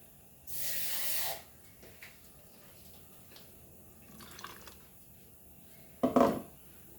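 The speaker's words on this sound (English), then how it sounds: "हांव इल्लें उदक घालता." Water pours into a pan of Goan mackerel fish curry with a loud steady hissing splash for about a second, followed by quieter clinks and a short sizzling burst near the end.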